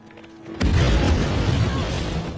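A film explosion bursts with a sudden deep boom, followed by a long, loud rumbling roar that slowly fades.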